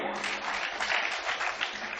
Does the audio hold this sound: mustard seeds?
no